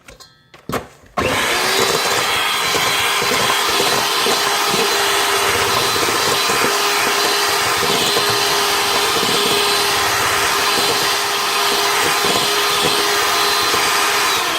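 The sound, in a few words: stand mixer (Mixmaster) motor straining while mixing cake batter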